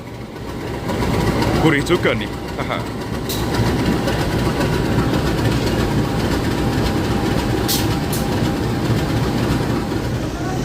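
A diesel locomotive of the Matarmaja train idles at Tegal station, a loud continuous rumbling drone close by, with a person speaking briefly near the start.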